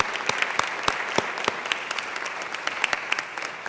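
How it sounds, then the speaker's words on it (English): An audience at a foster youth internship program briefing applauds its sponsors with steady, moderately distant clapping and sharp individual claps standing out. "I'd ask you to join me in giving them a round of applause"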